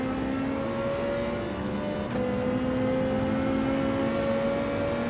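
An opponent's race car engine in Gran Turismo 7 drones steadily nearby during a lobby race, its pitch stepping down once midway as if shifting gear, then holding on.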